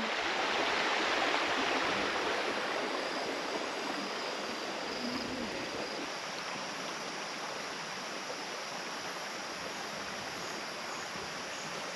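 A stream on a Sumatran island flows steadily, with broadband water rush that stays loud and constant throughout, no voices heard.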